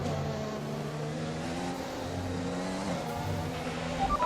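Simulated Formula 1 race car engine from the F1 2021 game at Abu Dhabi, the car down on power with an ailing power unit, droning steadily at high revs with layered harmonic tones throughout, slight pitch dips and a brief shift near the end.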